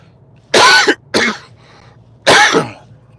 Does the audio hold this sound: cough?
yes